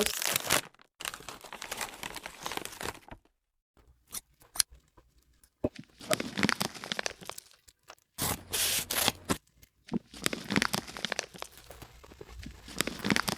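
Plastic parcel packaging is crinkled, torn and rustled while a lipstick order is unpacked, in close bursts separated by short pauses, with no talking.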